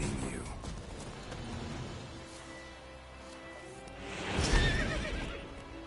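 Roach, the horse in The Witcher 3, gives a loud whinny near the end, with hoofbeats clopping and game sounds around it. No one speaks.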